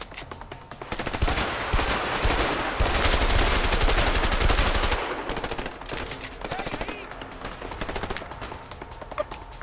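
Rapid automatic gunfire from a video game rattles loud and continuous, peaking mid-clip before thinning into sparser bursts near the end.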